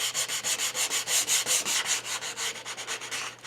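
Hand sanding of a cherry wood square tray, a close, steady back-and-forth rasp with about twenty even strokes in a quick regular rhythm, alone with no talk.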